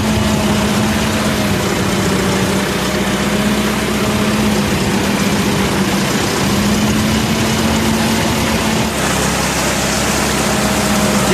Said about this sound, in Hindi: ये आप ट्रैक्टर आ गया, वो ट्रैक्टर आ रहा है